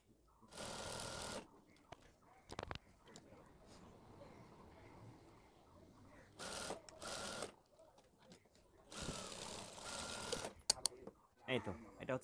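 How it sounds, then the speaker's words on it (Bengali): A sewing machine runs in short bursts stitching the side seam of a lehenga blouse, its whir starting and stopping in three main runs, while someone talks between and over the stitching. "এখানে আমি এইভাবে সেলাই করে দিব"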